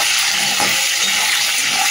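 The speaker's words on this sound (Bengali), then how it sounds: "এই তেলের মধ্যে একটু আলু আর গাঁটি কচুটা ভেজে নিই" Potato and taro pieces fry in hot oil, giving a steady, fairly loud broadband sizzle with faint crackles throughout and no talking.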